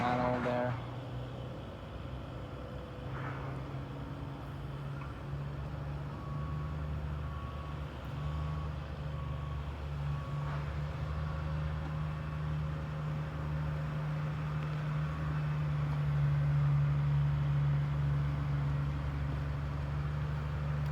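Steady low engine rumble from trucks coming and going at a construction site before drilling begins, with continuous idling drone and traffic-like noise; a faint intermittent tone rises briefly above it in the middle.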